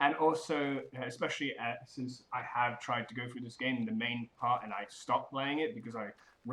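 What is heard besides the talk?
No distinct noise like a dog, phone or traffic.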